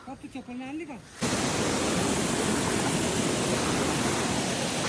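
Loud, steady rushing water of a forest stream at night fills the scene, starting abruptly after a second of speech and continuing unbroken at a constant roar.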